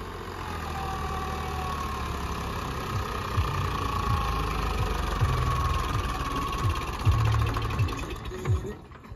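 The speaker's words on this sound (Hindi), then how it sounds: "ये ट्रैक्टर बहुत बढ़िया चला था सोनाली का भाई" A Sonalika 750 tractor engine runs steadily with a low, chugging knock while pulling a rotavator, occasional clunks and a brief rise in loudness near the end.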